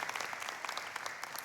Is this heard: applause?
yes